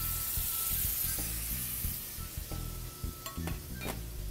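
Porcini mushrooms and their soaking juice sizzle and fry steadily in a pan, with a few stirring scrapes and soft spatters close by and no talking.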